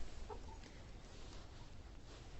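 Chickens clucking softly amid a steady outdoor hiss, with a few brief mid-pitched calls standing out near the start.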